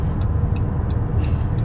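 A 2014 Dodge Caravan SE wheelchair mobility van cruises at about 60 mph on cruise control, giving a steady, continuous engine and road rumble from inside the cabin with no pauses or talking.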